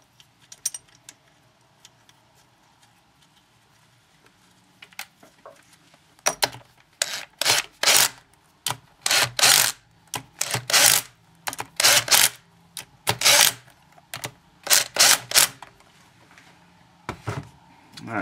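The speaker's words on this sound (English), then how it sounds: "got my torque wrench set on 19 foot-pounds. Go ahead and get that torque down." Torque wrench ratcheting bolts down on an engine, a run of short, sharp metallic clicking bursts in uneven rhythm, close and fairly loud after a quiet start.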